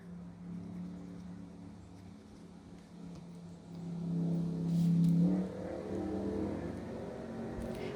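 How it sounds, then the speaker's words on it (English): Cars drive by outside a mountaintop home as they arrive for a weekend car show: a low engine rumble hums in the distance and swells louder for a moment as one vehicle passes before easing back. "I don't know if you can hear the cars"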